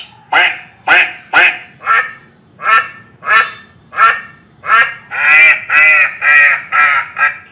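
A digital learning pen plays a duck quacking: about a dozen loud, close quacks in a steady series, a few drawn out longer near the end.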